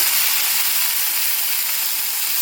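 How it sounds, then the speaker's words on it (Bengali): Bitter gourd and potatoes fry in a pan with a loud, steady, unbroken sizzling hiss, close up and alone. "দেখো উচ্ছে আলু ভাজছি এখানে"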